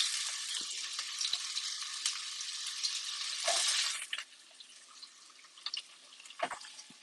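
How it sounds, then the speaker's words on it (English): Onions frying in a pan for chicken pilaf, a bright steady sizzle that drops after a few seconds, with intermittent scraping and clatter of a spoon against the pan. "So I'm going to add onions now."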